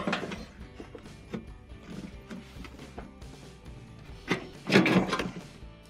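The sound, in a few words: putty knife depressing tabs to release dryer control panel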